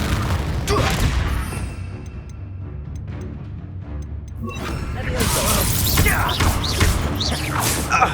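Spell blasts from Confringo and Bombarda in Hogwarts Legacy boom and shatter with crashing debris, a loud burst at the start and another rumbling barrage later, with quieter mechanical ticks between them.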